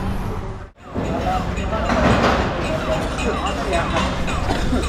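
A train rumbles past a railway level crossing near Jadavpur with a dense, loud roar of wheels and wagons, steady and close after a brief dip, with people talking underneath.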